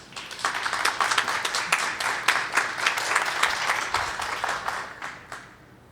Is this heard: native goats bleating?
no